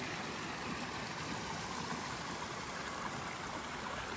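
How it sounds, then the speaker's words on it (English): A backcountry waterfall on a wilderness trail gives off a steady, dense rush of falling water. The broadband roar holds evenly throughout with no other sounds. "Oh, the waterfall."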